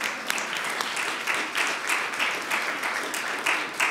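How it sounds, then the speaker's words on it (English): Audience applause at a Phi Theta Kappa honor society ceremony at a college, a moderate crowd clapping in a steady rhythm with slight surges, fairly close. "let's give her a round of applause."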